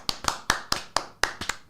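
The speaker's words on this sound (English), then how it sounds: "Can I get a round of applause, everyone?" A small group claps in a short burst of about eight sharp, separate slaps spread unevenly, close and fairly quiet, with no talking.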